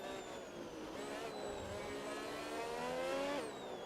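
F1 race cars from the game F1 26 roar steadily on track, a continuous loud engine drone with a rising, revving pitch sweep near the end as one car accelerates.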